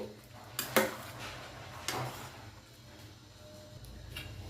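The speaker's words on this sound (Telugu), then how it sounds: "ఇప్పుడు పప్పు అనేది ఒకసారి మ్యాష్ చేసుకుందామండి చూడండి బాగా మెత్తగా ఉడికిపోయింది" A utensil knocks and scrapes against a pot while soft cooked dal is mashed, a few distinct clinks followed by quieter scraping.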